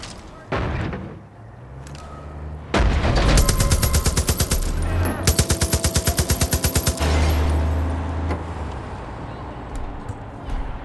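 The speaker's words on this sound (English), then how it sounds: "I keep shooting them down" Gunfire in Far Cry 5 as enemies are shot down: loud rapid automatic bursts with rattling rhythmic shots and heavy booms, close and dominant over game ambience.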